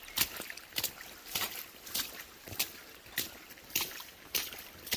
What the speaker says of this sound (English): The trail seemed to disappear and just became more of a small creek